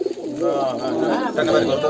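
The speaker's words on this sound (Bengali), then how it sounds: "সব এইগুলো পাকিস্তানি কবুতর এইগুলো" Pigeons coo in low, throaty warbles, several overlapping calls close by, loud and continuous.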